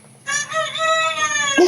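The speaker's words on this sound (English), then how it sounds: "That's the other chicken." A rooster crows loudly and close by in one long drawn-out call, ending with a short cluck.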